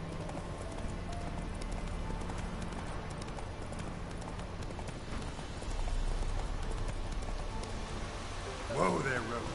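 Roach the horse in The Witcher 3 clip-clops steadily along under a continuous hum of game ambience and music, hoofbeats close and rhythmic, with a brief whinny-like flourish near the end.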